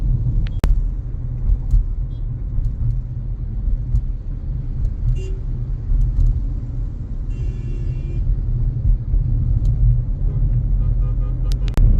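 Inside a Grand Vitara strong hybrid moving through highway traffic, a steady low road and engine rumble fills the cabin, with a few faint clicks and distant vehicle sounds over the constant drone.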